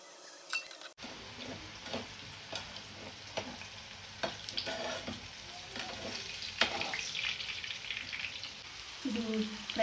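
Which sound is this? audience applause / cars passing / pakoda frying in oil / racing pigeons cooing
pakoda frying in oil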